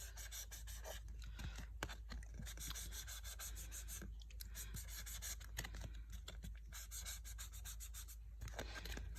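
Crayon or marker rubbing back and forth across a paper plate to color it green, a faint continuous scratchy scrubbing with quick irregular strokes.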